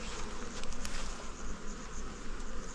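Honeybees buzz in a dense, steady drone close by as a queenright colony is placed during hive merging, with no talk over the hum.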